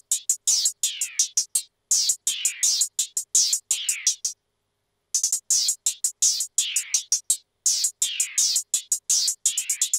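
Dark trap hi-hats treated with halftime, distortion and flanger effects tick in rapid, uneven rolls and bursts, bright and crisp, with a brief silent gap in the middle, no voice.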